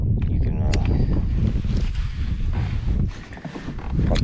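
Heavy wind buffets the microphone on a lake during kayak bass fishing, a loud constant low rumble that swells and dips, with a voice talking over it.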